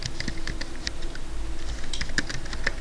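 Steady computer keyboard typing with quick, uneven clusters of clicks and taps running continuously at close range, fairly loud against a low background hum, no voices.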